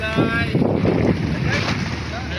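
A fishing boat out at sea, with a steady low rumble and gusting wind buffeting the microphone throughout.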